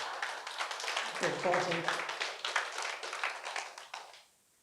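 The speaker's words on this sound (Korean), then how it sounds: "여러분 뒤에서 박수 치는데" Lecture audience clapping in a hall, a fairly quiet, dense patter of applause that fades out at the end, with someone briefly speaking over it partway through.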